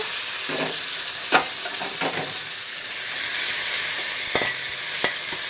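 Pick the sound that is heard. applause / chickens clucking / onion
onion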